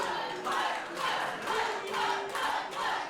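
A wrestling crowd at the Infamous debut show in Runcorn cheers and chants in rhythmic swells, roughly every half second, loud and enveloping.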